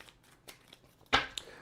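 Tarot card deck being shuffled by hand, a few light papery flicks then one sharp riffle burst and a small snap, close and brief with no talking.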